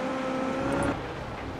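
A race car in the iRacing sim on the Road America circuit spins out, its engine note holding steady then wavering and dropping away over under two seconds, with no talking.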